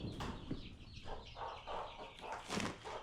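Chickens clucking close by in a row of short, soft, repeated calls, fairly faint against a low outdoor background murmur, with no talk.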